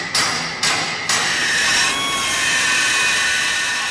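Three sharp hammer strikes in quick succession on a metal motorbike rack mounted on a camper truck, close and loud, followed by a sustained noisy metallic background.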